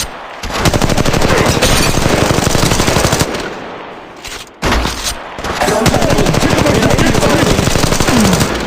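Rapid automatic gunfire from the Apex Legends Mobile video game, loud and continuous, breaking off briefly near the middle and then starting up again, with faint in-game voice prompts underneath.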